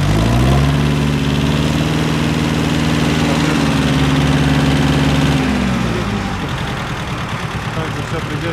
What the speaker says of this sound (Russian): Соответственно, такой вот холостой ход. Достаточно ровненько, он может работать буквально на 600-700 оборотах